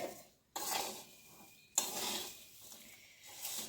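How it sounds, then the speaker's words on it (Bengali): Roasted peanuts being stirred into a flattened rice (chira) snack, a dry rustling, scraping mix of spoon against bowl with two sharp onsets, steady and close, no talking. "বাদামটা দিয়ে খুব ভালোভাবে নেড়েচেড়ে মিশিয়ে নেব।"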